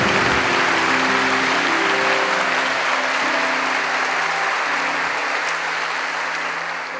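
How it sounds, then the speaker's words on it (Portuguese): A church congregation applauds loudly, a dense sustained clapping with a few voices and tones underneath at first, fading slightly toward the end. "Vamos aplaudir isso, gente? Vamos aplaudir o Senhor?"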